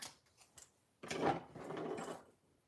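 Scissors cut through craft material with a few faint snips followed by a longer crunchy slicing stroke, close and quiet, with no one speaking.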